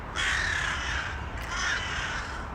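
Crows caw repeatedly, loud and fairly close, in rising and falling calls over a steady outdoor hiss.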